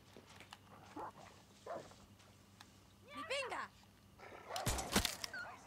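A dog in the Far Cry 6 video game gives a few scattered whimpers and yips, then rising bark-like cries, mixed with game sounds at low overall level.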